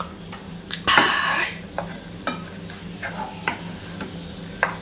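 Beef with garam masala being stirred in a pan, spoon scraping and clinking against the metal at irregular intervals with a soft sizzle underneath, close and moderately quiet.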